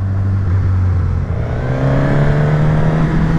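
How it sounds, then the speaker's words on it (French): Suzuki GSX-S 1000 sport motorcycle engine revving under throttle, a loud, steady nervous drone with a rising pitch from close by, no talking over it. "C'est vraiment un bruit nerveux, racé. À la au moindre petit coup de gaz,"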